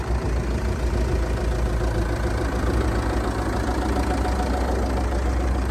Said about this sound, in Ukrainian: прислухайтеся, як гарно звучить мотор